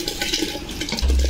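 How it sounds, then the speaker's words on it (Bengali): Uncooked rice poured into a pot of nearly boiled lentils for Bengali khichuri, a steady watery rushing pour that swells louder near the end. "এবার আমি চালটা ঢেলে দেব।"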